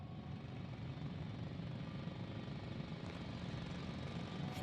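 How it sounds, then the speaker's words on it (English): A drill heard in the video game The Invincible, a deep steady rumbling grind that is constant and fairly faint, as if coming from some distance. "It's a drill!"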